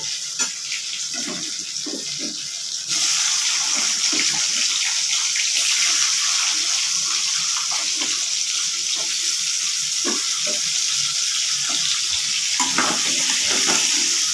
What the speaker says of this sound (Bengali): আলুটা এখন এই তেলে ভেজে নিচ্ছি